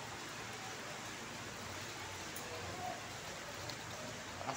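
Heavy rain pours down steadily as a dense, even hiss that fills the scene without pause, with no voices over it.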